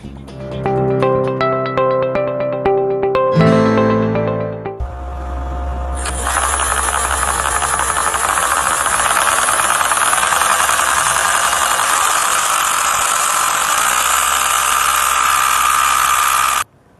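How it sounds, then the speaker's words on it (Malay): After a short musical jingle, a simulated engine starts up and runs, with a steady, buzzing mechanical whir that continues loudly until cut off, in a simulation of engine movement. "itu tadi simulasi pergerakan enjin"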